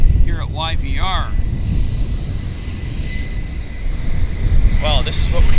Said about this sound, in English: This is Calgary Flight 104, WestJet, 737-800.